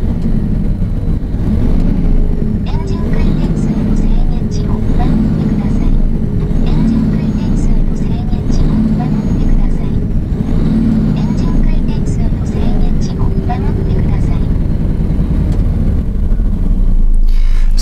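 A FUSO diesel commercial truck engine runs loud and close while the accelerator pedal is pressed. A heavy, steady low rumble continues throughout, with faint ticking sounds above it.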